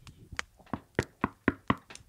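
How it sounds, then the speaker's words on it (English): Knocking on a door, a run of about seven sharp, evenly spaced raps, fairly close and loud, with no talking over them. "So there's a knock at the door."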